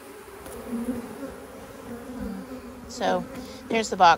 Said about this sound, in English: Ooh, there's a lot of bees on that.